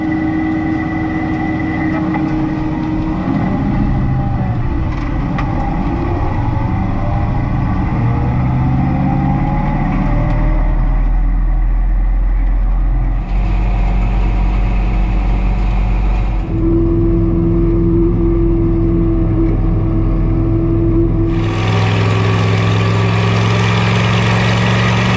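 A tractor engine idles and runs steadily throughout, pulling a 30-foot 272 disc in a farm field. It gives a continuous low rumble with some shifts in tone, loud and close, with no talk.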